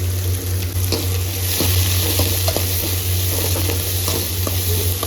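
Ginger and garlic fry and sizzle in hot oil in a pan for a green chicken gravy, a loud steady hiss with occasional stirring scrapes and clicks close up.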